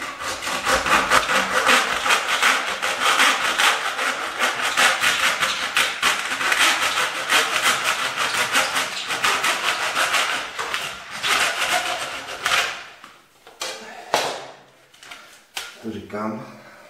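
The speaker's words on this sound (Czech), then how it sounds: "A já to zkusím teda takhle pilkou. Úplně prakobyčejnou pilkou." Ordinary handsaw cuts a wooden floor skirting board, with quick rhythmic rasping strokes close by and someone talking over them, before the sawing stops and scattered handling knocks follow.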